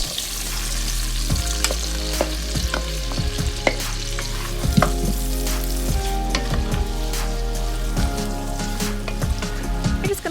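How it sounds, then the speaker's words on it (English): Sliced apples cook in melted butter in a pan over medium-low heat, giving a steady, close sizzle broken by repeated scraping stirs, with no talking. "Want to cook these apples down for about 3 to 5 minutes until they start to get soft."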